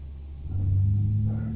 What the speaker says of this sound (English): So engine is starting.